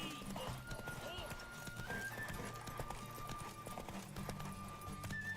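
Roach the horse in The Witcher 3 video game, hooves clip-clopping in a steady rhythm with a whinny, moderately quiet under game sounds and some talk.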